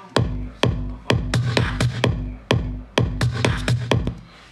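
Percussion loop with full unfiltered range, bright crisp hits riding over a steady thumping bass drum in a repeating syncopated groove, loud and close.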